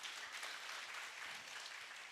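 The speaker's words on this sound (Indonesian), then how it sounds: "Tepuk tangan yang dahsyat buat Tuhan kita." A church congregation applauds during a sermon, a dense wash of clapping that holds steady and fairly distant throughout, with no clear voices over it.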